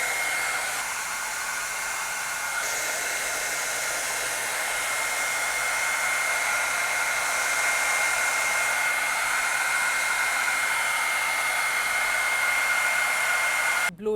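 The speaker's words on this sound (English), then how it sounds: "Now I'm going to turn on my hair dryer, and I'm going to put it on cool, but I'm going to make it high." A hair dryer blows steadily on its cool, high-speed setting, a loud, continuous broadband whoosh with a constant motor whine that holds for the whole stretch and cuts off abruptly at the very end.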